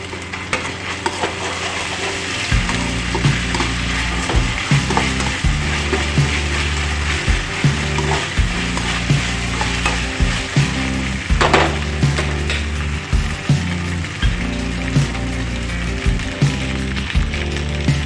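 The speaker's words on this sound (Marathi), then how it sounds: "आणि हा कांदा 5 मिनिट भाजू देणार आहे" Onion frying in a pan for an okra curry, with a steady sizzle and repeated stirring and scraping in a regular rhythm, close and fairly loud, with no talking.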